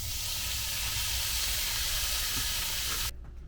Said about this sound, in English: So my meat is still browning.